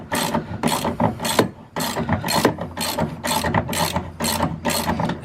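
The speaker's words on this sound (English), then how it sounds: "you'll use a 19mm socket. You just want to loosen these." Ratchet with a 19 mm socket loosening the bolts on a Sprinter van's trailer hitch, a quick, close clicking in repeated bursts, about eleven strokes with short pauses between them.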